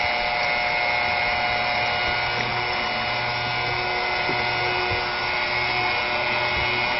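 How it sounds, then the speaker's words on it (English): A Wayne PC2 electric transfer pump runs with no load, giving a steady, even motor whine and hum at a constant level for the whole stretch, with no voices. "The pump with no resistance on it like it is right now makes very little noise."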